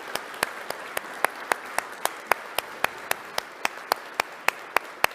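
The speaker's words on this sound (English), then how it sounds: "I think we all can give a great respect and applause to Ilya for his courage" A small audience at a conference session on Russia's war on children gives a round of sparse applause, about twenty distinct claps in a steady, even rhythm, fairly faint and alone with no talk.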